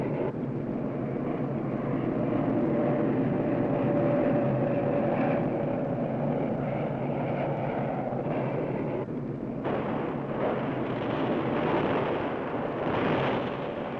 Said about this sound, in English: And then there are the B-52 bombers striking from nearby Thailand.